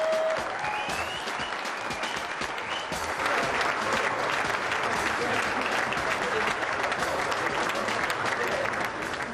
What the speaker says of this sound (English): Big round of applause, everyone